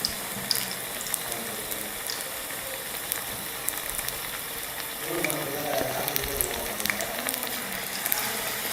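Bajji fritters fry in hot oil in a village kitchen, a steady close crackle and sizzle with scattered pops, growing slightly busier toward the end.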